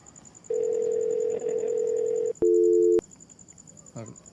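A steady telephone dial tone hums for about two seconds, cut off and followed by a short two-pitch tone and a faint voice.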